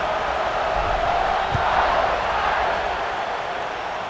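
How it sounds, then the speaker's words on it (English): A stadium crowd in the college football video game EA Sports College Football 26 roars and cheers continuously at a steady distance, a broad wash of voices with a brief louder swell in the middle. "this crowd is feeling themselves after that last drive"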